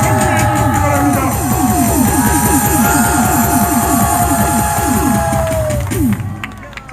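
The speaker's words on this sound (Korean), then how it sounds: "뜨거운 박수와 함성으로" At a political party gathering welcoming a new member, a large indoor crowd claps and cheers loudly, with the clapping falling into a steady rhythmic beat before it breaks off abruptly near the end.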